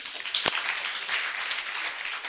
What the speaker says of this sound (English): So ladies and gentlemen, please clap for these people.